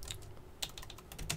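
Quiet keystrokes on a computer keyboard as router configuration commands are entered, a few scattered clusters of light clicks with short pauses between them.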